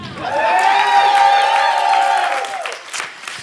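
A comedy show audience erupts in loud, sustained whooping and cheering with high, wavering voices, holding for a few seconds before fading into scattered claps and murmurs.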